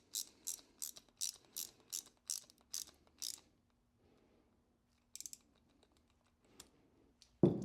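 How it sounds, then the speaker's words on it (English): A 12mm ratchet tightens the nut on a Honda Civic EG battery hold-down, giving a close run of eight rapid clicking bursts, then a pause, a couple of faint clicks and a louder clunk at the end. "And then use your 12mm to tighten it up."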